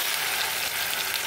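Chicken sizzles in a hot pan for a green chicken curry with salt and spices, a dense, close frying hiss that holds steady through a brief moment with no talking.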